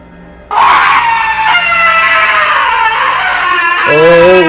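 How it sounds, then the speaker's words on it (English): A loud, sudden scream breaks from quiet and holds at full strength for about three seconds, wavering in pitch, then rises into a second piercing cry at the end; the source is an unseen creature in bushes by a river. "a third scream came just as suddenly, but this time, it was on our side of the river"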